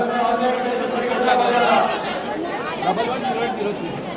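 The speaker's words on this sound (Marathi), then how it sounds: "इकडे बघा गर्दी बघा" A dense crowd of pilgrims at the Ekvira temple mills around, many overlapping voices forming a steady close chatter, with no single sound standing out.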